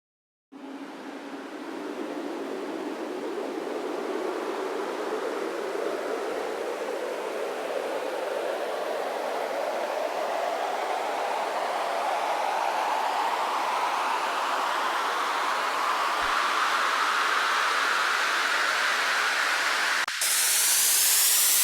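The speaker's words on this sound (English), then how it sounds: "it just kind of turns the noise into like a riser almost." A broad white-noise riser from a synthesizer swells steadily for about twenty seconds, brightening and climbing in pitch, then cuts off abruptly with a brief bright burst at the end.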